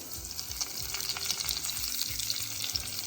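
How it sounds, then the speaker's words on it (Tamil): Steady sizzling of snake gourd frying in a hot pan, with a few soft stirring scrapes, continuous and close, no talking. "புடலங்காய் காயை நம்ம இதில் வதக்க போகிறோம்."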